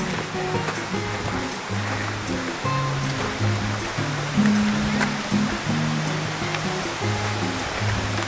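Steady rushing of water flowing through the Flume Gorge stream, a constant broad wash heard up close, with faint low tonal hums underneath.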